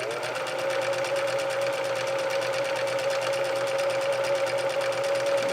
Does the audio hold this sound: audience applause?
no